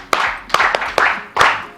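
Rhythmic hand clapping rings out in a few distinct, evenly spaced claps with a roomy echo behind them, close and fairly loud, no talking.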